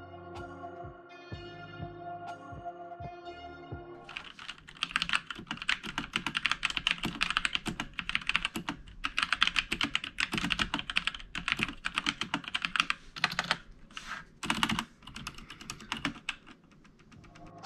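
Rapid, steady typing on a TECWARE Phantom TKL 87-key mechanical RGB gaming keyboard with Outemu Brown switches, close and clear, with dense bursts of key clacks and a few spacebar thocks, after some quieter keyboard handling at the start.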